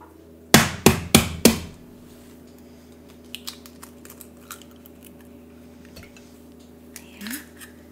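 While molasses crinkle cookie batter is being made, an egg is cracked on a bowl rim with four sharp taps in quick succession, then comes soft faint clinks and small handling sounds. The kitchen is otherwise quiet.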